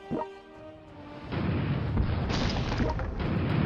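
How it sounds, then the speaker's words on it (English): Missile strikes in a strategy video game about a Soviet battle for Alaska: a short thud, then a heavy rumbling blast swells and holds as a loud, continuous roar of explosions. "Just gonna keep hitting this up with regular missiles."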